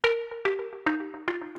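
Four plucked bass notes from a sampled bass patch on a Klevgrand Tomofon sampler, each with a sharp attack and a sustained tone that steps slightly downward, close and clear with no voices.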